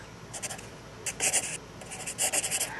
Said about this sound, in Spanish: Escuchen el sonido del lápiz sobre el papel.